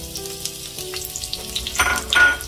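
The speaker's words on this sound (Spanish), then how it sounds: "y dejamos que se sofría" Sliced onion rings sizzle in a pan of oil with golden-browned garlic for green chilaquiles, a steady crackling fry with brief louder bursts near the end, close and alone.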